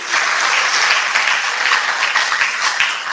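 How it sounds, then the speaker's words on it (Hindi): Steady, loud applause from a crowd, dense clapping filling the whole stretch without pause. "तालियां बजाएं खुद के लिए।"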